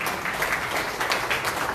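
Steady clapping from an audience at a Liberty Korea Party provincial chapter ceremony as appointment certificates are handed out, a dense even patter held at a moderate level throughout.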